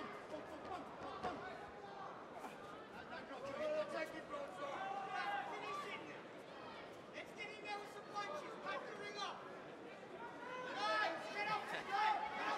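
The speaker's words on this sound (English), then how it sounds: "Kabulu's corner screaming, demanding. The crowd getting a little bit impatient again." A corner team shouts at their fighter during the Muller vs Kabulu bout at EFC Africa 08, over a steady, restless crowd murmur with raised voices cutting through the hall.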